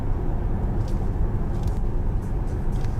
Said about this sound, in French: Et là tu vois, on est en tout électrique